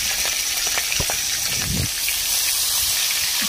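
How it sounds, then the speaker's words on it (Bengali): Prawns rubbed with turmeric and salt fry in hot oil in a wok, giving a close, even sizzle with scattered pops and no talking. "তেলটা গরম হলে আমি চিংড়িগুলো ছেড়ে দিচ্ছি।"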